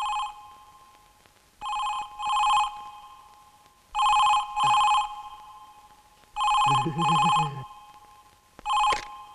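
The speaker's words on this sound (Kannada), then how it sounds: "ಯಾರಾದ್ರೂ ಫೋನ್ ತಗೊಳ್ಳಿ" An old-style telephone bell rings indoors in a scene from a Kannada feature film, giving four loud double rings separated by short silences, with a brief voice under one ring.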